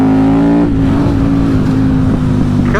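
A KTM 950 SMR motorcycle engine rumbling loudly up close as the rider lets off the gas, its steady harmonic drone dropping in pitch, with rough crackly popping breaking up the tone.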